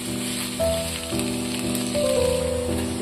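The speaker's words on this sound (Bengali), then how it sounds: "আমি বয়েল করা আলুগুলো একটু ভেজে নিচ্ছি" Boiled potatoes fry in a pan for a chilli potato dish, giving a steady close sizzle throughout with sustained tonal background sound above it.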